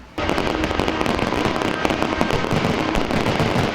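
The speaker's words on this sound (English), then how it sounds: "The final firework of the evening sparkled the number 75" Loud, dense crackling of fireworks bursting close by, a continuous barrage of sharp pops and rumbling booms lasting several seconds.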